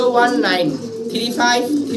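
Caged pigeons kept in pairs at a farm in Gazipur, Bangladesh, cooing close by in a couple of soft, throaty calls, with a voice alongside.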